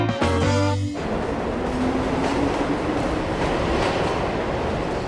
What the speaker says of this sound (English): I always called this subway the Great Equalizer